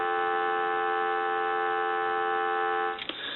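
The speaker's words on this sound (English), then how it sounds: "give you some dial tone." A Snoopy and Woodstock model telephone gives a steady, even dial tone that hums continuously for a few seconds, then cuts off with a faint click and some handling noise.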